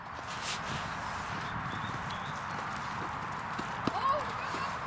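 Horses at the Irish National Stud walk with soft, irregular clip-clopping hooves on a hard surface, mid-distance under steady ambient noise, with people talking nearby.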